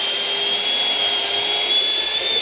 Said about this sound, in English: let's get a hole drilled through